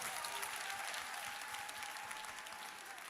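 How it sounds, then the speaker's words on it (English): A live audience claps in a sustained, steady ovation, a dense crackle of many hands with a faint tonal hum beneath, tapering slightly toward the end. "Clap it up, clap it up."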